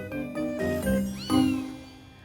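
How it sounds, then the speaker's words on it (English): Four kittens meow in a few short, high, wavering cries, one after another and close by, with nothing else in the background. "As you can see, the 4 kittens are down the end there."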